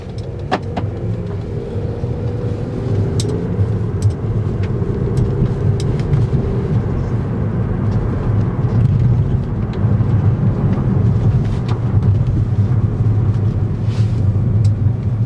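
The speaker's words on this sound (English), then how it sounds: "let's take it out for a test drive and see how it drives together" A silver 2016 Volkswagen Jetta out on a test drive, its steady engine and road rumble droning continuously for about fifteen seconds, with faint interior clicks over the low hum.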